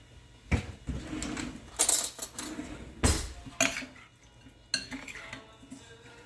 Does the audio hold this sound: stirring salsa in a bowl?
yes